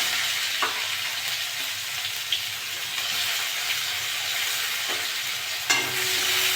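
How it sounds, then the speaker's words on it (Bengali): Chopped onions frying in hot oil with whole cumin seeds, with a steady, close hiss of sizzling and a few faint stirring knocks. "পেঁয়াজটা একটু ভেজে নেব।"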